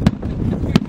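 Fireworks going off at the Harlingen fishing days festival, with two sharp outdoor bangs roughly 0.7 seconds apart over a steady background of wind and crowd murmur.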